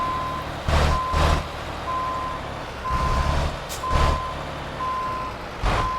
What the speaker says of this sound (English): and then we'll drive this trailer back into that parking spot there.